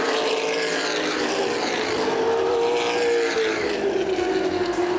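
Late model stock cars race at Winchester Speedway on its high banks during a CRA Late Model Sportsman event, a loud steady engine roar with rising and falling pitch as the pack runs side by side through the turns.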